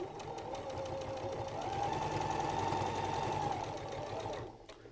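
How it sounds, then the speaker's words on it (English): A 680 sewing machine stitching quilting fabric, a steady, close mechanical whir with a rapid needle rhythm that holds for over four seconds and then stops abruptly. "Lovely 680 sewing machine."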